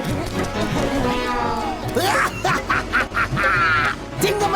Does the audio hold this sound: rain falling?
no